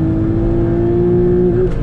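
A Porsche Boxster S engine on a race track, a loud, close, sustained drone with a steady pitch that holds evenly and then shifts slightly near the end, heard alone with no voices.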